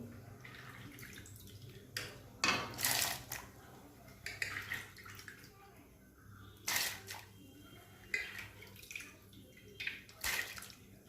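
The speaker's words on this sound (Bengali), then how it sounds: "এবার আমি এর মধ্যে ছোলার ডালগুলো দিয়ে দেব" Chana dal poured into a pot of hot water for Bengali cholar dal, heard as scattered splashes and watery clatters in irregular bursts, fairly faint, with small drips between them.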